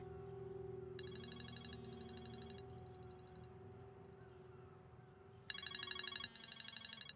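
A phone rings in short electronic ringtone bursts, two separate trills at a moderate distance. A sustained musical drone plays underneath.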